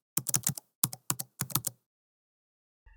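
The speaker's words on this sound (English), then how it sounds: "Today we have the Redragon K579 Manyu mechanical keyboard." Typing on a Redragon K579 Manyu mechanical keyboard produces crisp, close clicking keystrokes in quick irregular clusters, then a pause before a faint final thump.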